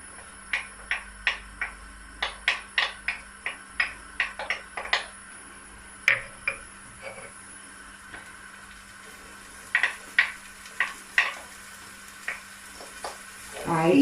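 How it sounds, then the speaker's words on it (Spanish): Onion and leek sautéing in a little oil in a pan, with a soft steady sizzle under a run of crisp, close spatula taps and scrapes from stirring that come in bursts and pause midway. "para pochar la cebolla y el puerro, no demasiado"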